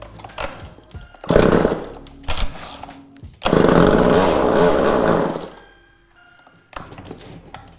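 A Craftsman chainsaw that has sat unused for over ten years is pulled on full choke: repeated loud bursts of engine noise cut off into near silence between pulls, with one longer sputtering run before it dies.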